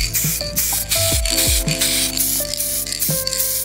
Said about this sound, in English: Continuing the trend of aerosol painting, I grabbed a couple of greys.